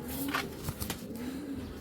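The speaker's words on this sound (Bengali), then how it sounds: "খুব সুন্দর একটা মাদি কবুতর" A female Giribaz pigeon coos softly, with low rounded calls rising briefly over a steady, faintly noisy background.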